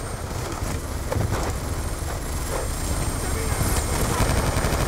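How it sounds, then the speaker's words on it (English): An enemy drone flies in Call of Duty: Black Ops 2 as a steady rotor-like roar with broadband rumble that grows slightly louder. Gunfire and battle noise sit underneath and no one speaks. "Drone's down!"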